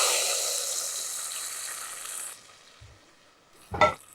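Hot tempering of mustard seeds hisses and sizzles in a pan for a mixed-vegetable masiyal, a steady loud fry that suddenly dies down, followed by a faint clink and a short clatter.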